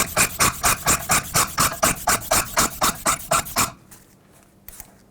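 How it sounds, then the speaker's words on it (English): A rear outer wheel bearing hub on a 2008-2010 Ford F-250 is tightened and spun by hand, giving a loud, even series of about thirteen rasping, whirring pulses. They stop abruptly, leaving near quiet with one faint knock. "let's just go ahead and tighten it up. Give it a few spins every now and then."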